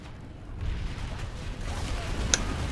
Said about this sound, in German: weil einfach hier alles explodiert gerade